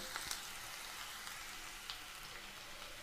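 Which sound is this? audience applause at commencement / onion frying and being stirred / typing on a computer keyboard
onion frying and being stirred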